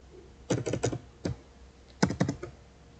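A computer keyboard typing a short terminal command, heard as two quick bursts of several crisp keystrokes with a lone key press between them, close and fairly quiet with no talk.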